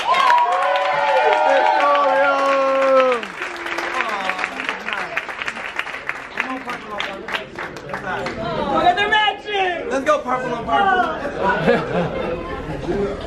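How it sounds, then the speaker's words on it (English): Awards ceremony audience applauding, loud sustained clapping mixed with crowd chatter and scattered cheers, following someone speaking over a microphone at the start. "Please give her another round of applause."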